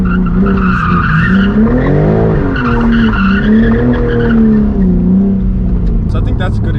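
A BMW M4 G82 with a manual gearbox and titanium exhaust blips through loud downshifts, the engine note rising and falling, with sharp cracks and small burbles popping near the end, the exhaust roaring close and continuous.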